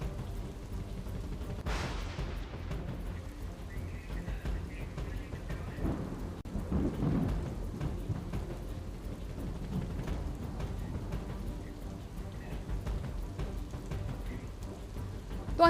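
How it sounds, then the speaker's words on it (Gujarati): Sudden heavy afternoon downpour over Limbayat, Surat, steady hiss of torrential rain with a rumble of thunder early on, continuous and moderately distant, no voices. "આજે પણ બપોર બાદ અચાનક જ જે ધોધમાર જે વરસાદ શરૂ થયો છે"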